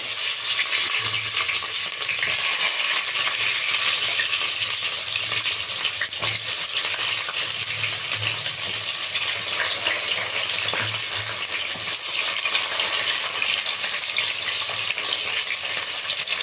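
Onion fries in oil along with cinnamon and cloves, a steady, close sizzling hiss that runs unbroken throughout with occasional soft pops and light stirring scrapes.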